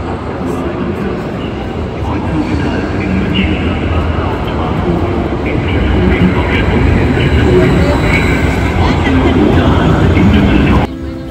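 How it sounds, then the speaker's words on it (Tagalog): Train arriving at a platform at Cologne station, a broad continuous rumble that swells slowly and stays loud, with station noise and people talking around it. "Ayan na yung train natin."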